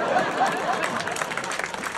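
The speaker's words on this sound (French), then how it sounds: "On applaudit." Audience at a French stand-up comedy show applauding, a dense steady wash of many hands clapping throughout, fairly loud and close with a faint murmur of voices mixed in.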